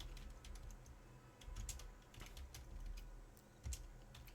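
Soft, irregular clicks of keys being typed on a computer keyboard, a quick scattered burst of keystrokes with brief pauses, faint and close with low background hum.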